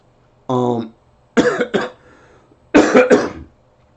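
Three separate coughs close to the mic, the first short and voiced, the next two harsher and doubled, with brief quiet gaps between them.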